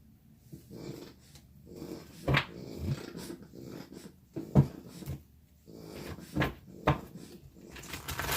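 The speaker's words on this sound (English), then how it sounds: "You probably hear my little snorty dog in the background. She's not sleeping at the moment. She's just snorting." A small dog snorts and huffs in the background of a quiet room, in scattered short bursts with pauses between, some bursts sharper and louder, with no talk over it.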